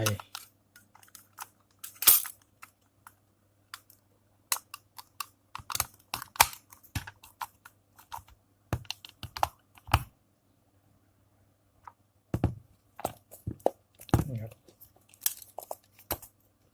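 A plastic cover is pressed onto a tape measure case, giving sparse, sharp clicks, snaps and light plastic crinkles separated by quiet pauses, heard close up.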